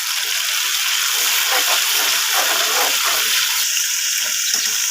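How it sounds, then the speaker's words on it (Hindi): Water pours steadily into a bowl of yogurt for chana pulao, a continuous close splashing hiss lasting throughout with no talk. "थोड़ा सा इसमें मैं पानी डाल देती हूँ ताकि अच्छे से सारा दही जो है इसके अंदर चला जाए"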